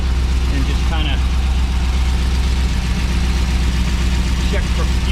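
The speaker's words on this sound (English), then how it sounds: "Exhaust sounds good, motor sounds good." An LS3 V8 swapped into a Porsche 914 runs steadily at idle, with a loud, continuous low rumble from the exhaust. It is first started without coolant and runs alone, and no one talks over it.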